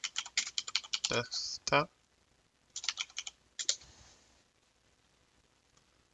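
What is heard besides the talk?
typing on a computer keyboard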